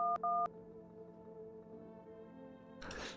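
Telephone keypad in the video game No, I'm Not a Human gives two short dial tones, then a steady ringing hum with a burst of rustling noise at the end.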